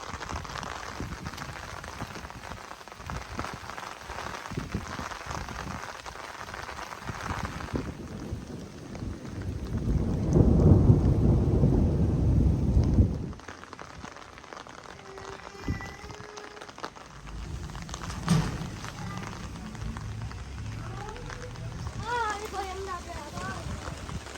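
Steady rain patters throughout, with a deep rumbling swell in the middle like thunder; faint voices come through near the end.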